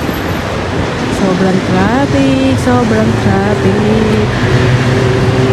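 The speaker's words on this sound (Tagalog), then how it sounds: "So, sobrang traffic." Heavy traffic rumbles through a busy city center, a constant engine drone with passing vehicles, while a person talks loudly over it.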